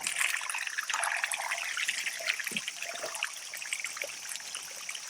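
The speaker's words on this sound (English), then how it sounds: "and then the water drains out." Water trickles and splashes steadily as it drains out of a farm water tank through pulled plug holes, a continuous close-up flow with no talking.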